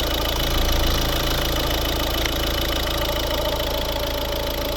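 A 2011 Volvo V50 1.6 D2 diesel engine idles steadily up close, a continuous low rumble with a faint mechanical ticking running through it, no voices.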